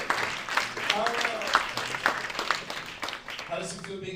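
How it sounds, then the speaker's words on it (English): Audience applause at a San Francisco tech demo night during SF Tech Week, a steady crowd clapping through the whole stretch with a host's voice talking over it. "Round of applause for"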